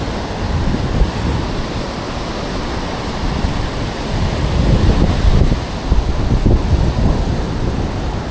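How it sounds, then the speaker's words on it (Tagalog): Strong ocean waves surge and break steadily at Alegan beach, where the water is murky, a dense, loud roar of surf with wind buffeting the microphone and swelling crashes toward the end. "Medyo malakas-lakas yung mga alon dito mga idol."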